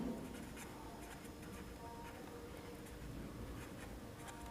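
Pen scratching across paper while writing out the answer to a Class 10 statistics problem on the mean, a steady run of soft strokes and taps, close and quiet, with no talking.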